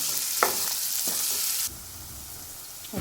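Fenugreek leaves frying in hot oil in a pan, a dense continuous sizzle with a couple of stirring scrapes, the hiss dropping abruptly in volume partway through, then lower bubbling frying.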